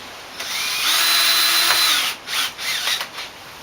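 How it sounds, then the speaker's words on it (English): A cordless drill whirs up in a sustained whine for about a second, then gives a few shorter bursts as screws are driven in, close by. "you just grab a handful of your 25mm screws here and your cordless drill"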